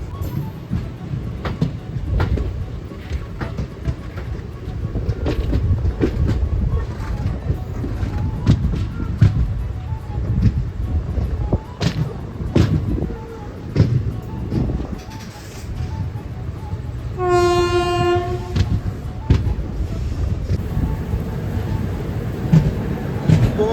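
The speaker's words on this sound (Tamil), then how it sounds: "அதுதாங்க இப்போ நீங்கள் பார்க்குறது pearl city super fast express" The Pearl City Superfast Express rumbles past with a steady clatter of wheels over rail joints, a brief horn blast sounding clearly midway through the continuous rolling noise.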